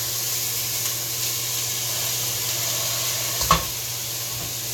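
Frozen taco meat broken into pieces sizzles and fries steadily in a pan, a soft continuous hiss with a single sharp clink from a utensil near the end.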